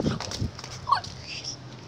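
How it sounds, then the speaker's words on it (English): A dog whimpers and whines in short, high yelping bursts indoors, brief and fairly close, with faint background noise between the cries. "That's not my parents. That's my dog."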